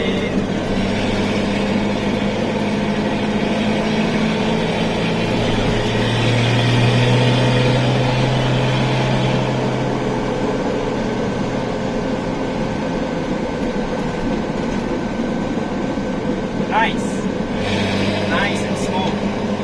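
A 1973 Datsun 240Z Series 2 with its interior stripped out drives along, its engine a steady, fairly loud low drone mixed with road and cabin noise.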